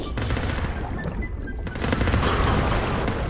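Gunfire in the video game DEPTH comes as rapid bursts of shots, loud and close, with a brief lull before the firing resumes densely toward the end.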